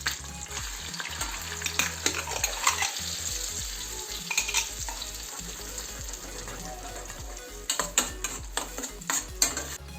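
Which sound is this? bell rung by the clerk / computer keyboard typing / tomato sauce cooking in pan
tomato sauce cooking in pan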